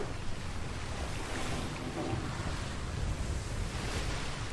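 Sailing ship cutting through ocean waves in the game Atlas, a steady wash of surf and rushing wind around the hull, continuous and fairly quiet with no voices.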